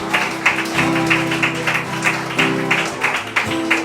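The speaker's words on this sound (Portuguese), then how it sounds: "Uma salva de palmas ao Senhor." Congregation applause during a church service: steady, dense clapping from a crowd, with a droning organ or keyboard tone running underneath, fairly loud throughout.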